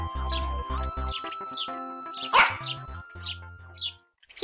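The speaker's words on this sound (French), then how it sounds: "Poppy, le fidèle chien de Mia, les a accompagnés." A dog barks repeatedly in short, sharp bursts at an uneven pace, fairly close and clear, with faint bird chirps and a soft musical backdrop underneath.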